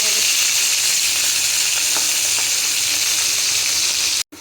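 Fish frying in a pan with oil, a loud, dense, continuous sizzling hiss close up and a few faint clicks, cutting off abruptly just before the end.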